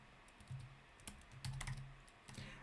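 Keys click and clack as someone types on a computer keyboard. The bursts are quiet and close, come at an irregular pace, and are heard with no voices.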